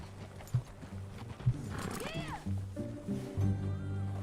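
Horse hooves thump in an uneven clip-clop rhythm in the Red Dead Redemption video game, close and moderately loud, with a whinny and voices talking over them.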